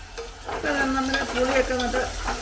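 Bilimbi pickle is stirred in a pan while it fries, a close, continuous sizzle with soft scraping of the spoon running through it.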